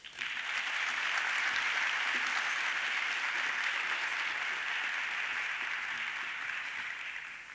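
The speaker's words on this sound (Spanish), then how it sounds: "ruego un fuerte aplauso" Sustained applause from an audience at a medical conference session, a dense wash of clapping that swells quickly, holds steady for several seconds and tapers slightly at the end, heard from across a hall.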